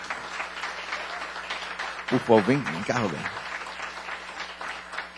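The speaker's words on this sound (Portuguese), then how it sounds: "recebendo uma calorosa salva de palmas a Cristo da igreja." Church congregation applauding in a steady background wash of clapping, with a voice speaking briefly over it midway.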